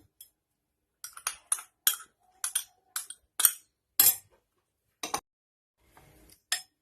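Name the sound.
mixing chopped tomato, onion and coriander for bread omelette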